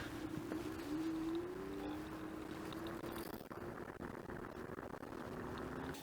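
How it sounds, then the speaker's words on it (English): An Angwatt CS1 electric scooter pulling away from a standstill at full throttle, its motor giving a steady rising whine that climbs in pitch over the first couple of seconds before leveling off, close and fairly quiet over wind noise. "I'll now jump on the scooter and press full throttle."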